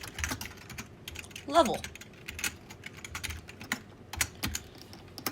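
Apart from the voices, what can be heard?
typing code on a computer keyboard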